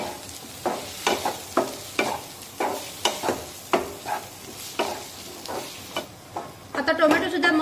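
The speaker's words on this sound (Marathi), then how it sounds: "यामध्ये 1 टोमॅटो टाकूया बारीक कट केलेला आणि टोमॅटो छान मऊ होईपर्यंत शिजून घेऊया" Finely chopped tomato sizzling and frying in a pan with ginger-garlic paste for a green peas usal, with a steady crackle broken by repeated scraping stirs of a spoon, close and fairly loud, growing busier at the end.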